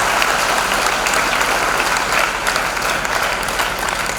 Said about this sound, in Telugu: గట్టిగా చప్పట్లు కొట్టి అభినందిస్తాను